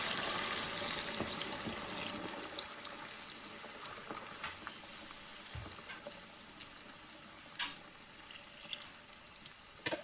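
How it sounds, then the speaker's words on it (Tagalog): Water pours into a cooking pot of sautéed garlic, onion and pork for paksiw, a faint rushing splash with soft sizzle underneath, fading slightly toward the end. "Pwede na natin lagyan ng tubig."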